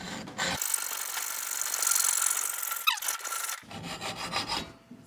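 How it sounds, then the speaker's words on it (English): A hacksaw cutting metal on a truck build makes rasping, rhythmic strokes with squealing scrapes, close and loud, in two bursts separated by a short pause. "And so we're using a hacksaw."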